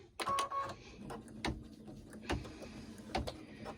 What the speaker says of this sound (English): So this is going to stitch around here